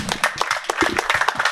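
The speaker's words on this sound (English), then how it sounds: "Please, a round of applause for Tropical Nomad," Audience at a speaking event breaks into close, loud clapping, a dense burst of individual hand claps lasting only a moment.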